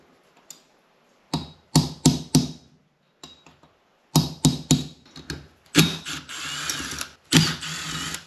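Ratchet wrench with a socket working bolts off a Yamaha Moto 4 ATV, heard as close, crisp bursts of rapid clicking in separate runs with short pauses between them, alone without talk.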